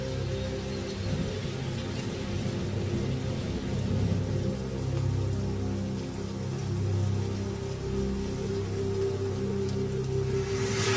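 Steady rain falls during the wet season at Mala Mala game reserve in Africa, a continuous, even hiss with a low rumbling undertone, close and unbroken throughout.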